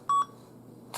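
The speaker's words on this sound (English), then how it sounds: "I had to wait for the beep because it's one of the reasons why this laptop is iconic." An old Lenovo ThinkPad X130e laptop gives its startup beep: two short, clear electronic tones in quick succession, loud against a quiet room, followed by a soft hum of silence.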